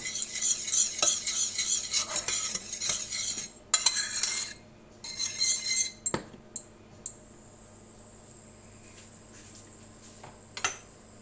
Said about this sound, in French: Je vais bien mélanger pour mélanger mon sucre et mon eau.